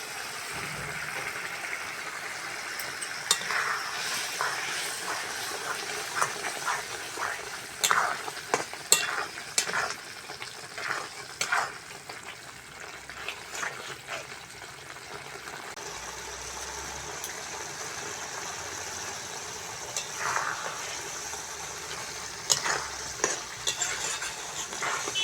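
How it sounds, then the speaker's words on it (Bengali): A spice paste with tomato, for potato curry, is sautéed in oil: a continuous low sizzle with frequent scraping and clattering stirs of the spatula, close and steady over a long stretch, no talking. "এবার মশলাটা ভালো করে কষবো।"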